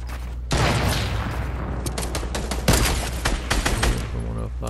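Video game gunfire crackles in rapid bursts after a quiet start, dense overlapping shots and booms continuing close and loud for several seconds, with a voice briefly under the shooting.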